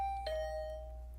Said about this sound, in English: I rang her doorbell,